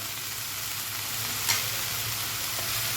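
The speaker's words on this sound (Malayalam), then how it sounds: "നല്ലോണം നമുക്കൊന്ന് മിക്സ് ചെയ്ത് നന്നായിട്ടൊന്ന് വഴറ്റിയെടുക്കണേ" Beef with black pepper, curry leaves and salt is sautéed and stirred in a pan, making a dense, continuous close sizzle with one brief clink of a utensil midway and no speech.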